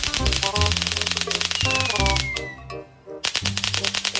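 A Diwali firecracker string bought at a market bursts in a rapid, loud crackling run of pops, falls quiet briefly, then starts popping again.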